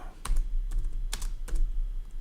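Code is typed on a computer keyboard for a Raspberry Pi lesson: a few quick, close key clicks in short bursts over a low steady hum, with no one speaking.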